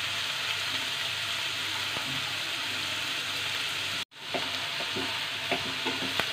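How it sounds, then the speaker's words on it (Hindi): Cabbage and capsicum stir-frying on high heat for hakka noodles, a steady soft sizzle with faint scraping stirs and a brief break partway through, quiet and close. "अब हम इस सब्जी को तेज आंच पे भूनेंगे। अच्छे से इसे पकाएंगे, 2 मिनट तक हम इसे भूनेंगे।"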